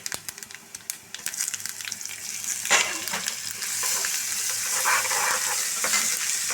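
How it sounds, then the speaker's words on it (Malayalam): Fennel seeds and ginger-garlic paste hit hot oil in a pan. A scattered crackle builds into a loud, continuous close-up sizzle that holds steady to the end. "പോർക്ക് വരട്ടാനായിട്ട് ഞാൻ അടുപ്പത്ത് പാൻ വെച്ചിട്ടുണ്ട് അതിൽ രണ്ട് ടേബിൾ സ്പൂൺ ഓയിൽ"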